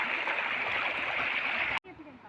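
Water gushes from a hole in the ground in a steady rushing, gurgling flow that runs continuously, then cuts off abruptly near the end, leaving faint ambient sound.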